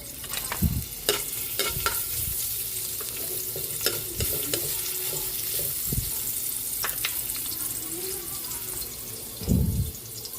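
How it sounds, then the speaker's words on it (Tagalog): Ginger sautés in a pan as the base for seafood in coconut milk, with a continuous close sizzle broken by clunks and scrapes of stirring. "Magigisa na po tayo para sa ating ginataang seafoods."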